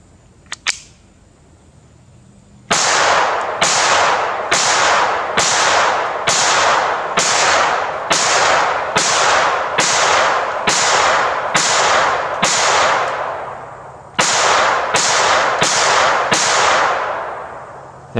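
A Kel Tec P17 pistol fires a rapid string of about fifteen loud, cracking shots at a steady pace, with a short break before the last few, preceded by a couple of faint mechanical clicks.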